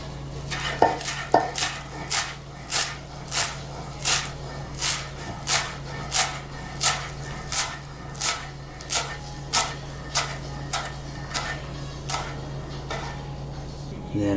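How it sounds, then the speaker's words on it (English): A knife chops fresh cilantro on a cutting board in a steady rhythm of about twenty crisp, close taps, with a low hum running underneath. "For the cilantro, I like to cut it kind of small."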